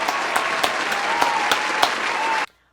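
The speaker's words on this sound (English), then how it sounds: "can I get a round of applause?" A close, steady round of applause from a small group, dense and continuous with a few sharper claps standing out, then cutting off abruptly after about two and a half seconds.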